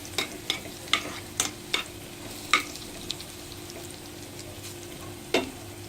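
Dried red chillies, garlic and cumin frying in a pan for dal, with a faint steady sizzle under a series of sharp clinks and scrapes as a spoon stirs them, close and fairly quiet, no voices.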